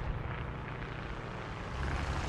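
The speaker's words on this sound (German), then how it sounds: "Jetzt höre ich das Flugzeug." An airplane flies overhead in the War Thunder video game during a tank battle in the Carpathians, a steady, loud engine drone holding evenly throughout without pause.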